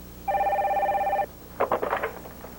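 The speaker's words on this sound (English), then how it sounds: "Get the phone, will you?" A telephone in an office gives a single steady electronic ring about a second long, followed by a short burst of clattering handling noise.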